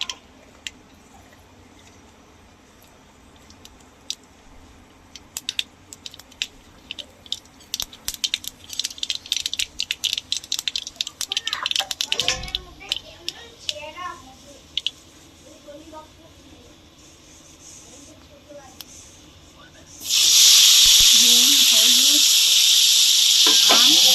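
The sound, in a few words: mustard seeds tempering in hot mustard oil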